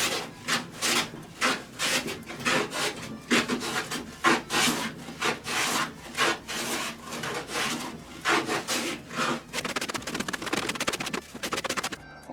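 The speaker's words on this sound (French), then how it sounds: "Un coup de rabot pour enlever les marques d'outils." A hand plane shaves wood with a rhythmic series of rasping strokes, about two per second, close and fairly loud.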